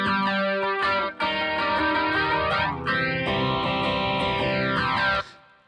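An electric guitar plays effect-laden chords voiced with the root as the lowest note, loud and sustained with chorus and distortion, a sweeping phaser-like tone and a brief break before it fades.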